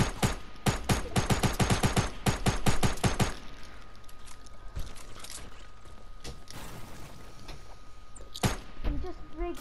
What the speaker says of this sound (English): I'm shooting. I'm shooting at it.